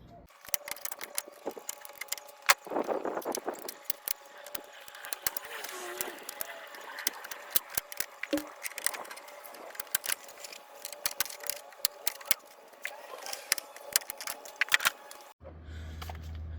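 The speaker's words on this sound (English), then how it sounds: "So let me take those clips out," Plastic trim clips and bolts being removed by hand from a 2020 Chevy Silverado during AC compressor replacement: quiet, scattered clicks, taps and light scraping in an otherwise hushed work space, close to the microphone.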